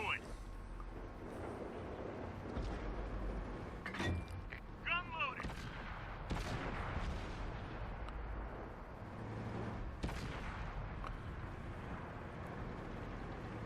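Tank cannons fire in a World War II tank battle game involving Churchill, VK and Firefly tanks. A few heavy, booming shots are spread across the clip over rumbling engines, with a voice talking throughout.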